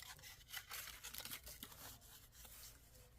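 Paper cut with scissors, a quick string of faint, crisp snipping and rasping strokes heard close up in a quiet room.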